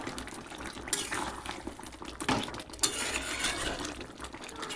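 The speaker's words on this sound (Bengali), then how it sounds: "এবার একটু নাড়াচাড়া করে এটাকে মিশিয়ে দেবো।" Chicken curry with garam masala being stirred in a pot, with spoon scrapes and clinks against the metal and soft wet, sloshing sounds throughout, plus sharper knocks around the middle.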